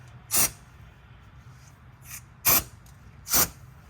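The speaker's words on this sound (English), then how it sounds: "We got our brake clean. We're just gonna spray some in there." Brake cleaner sprayed from an aerosol can during an oil change on a Chevrolet Silverado, three or four short, loud hissing bursts with pauses between them, close to the microphone.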